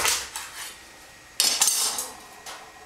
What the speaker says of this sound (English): just simply cut the squash in half